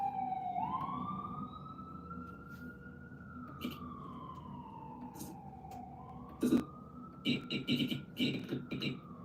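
Emergency vehicle sirens wail outside with a slow rising and falling tone, moderately distant, while faint talking and a few sharp sounds break through nearer by.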